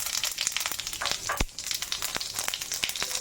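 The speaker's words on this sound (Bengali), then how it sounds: "শুকনো লঙ্কা তেলের মধ্যে এটা দিয়ে দেবো। আচ্ছা, এতে দেবো একটু গোটা জিরে" Dried red chillies and whole cumin sizzling in hot oil, a continuous close crackle with scattered sharp pops, fairly quiet and with no one speaking.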